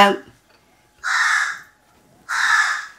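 A crow near a house in the morning gives two loud, harsh caws about a second apart, each lasting roughly half a second, with quiet in between.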